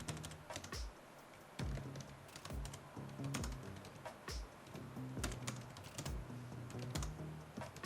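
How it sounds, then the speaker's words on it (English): Brisk typing on an Asus TUF Gaming FX504GM laptop keyboard, a quick run of crisp, close key clicks with no talk over it. "Here's what the keys sound like when I'm typing."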